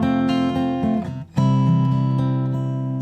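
Two sustained keyboard chords forming a 4-to-1 cadence, one moving to a final resolving chord after a brief dip, played alone and ringing out steadily.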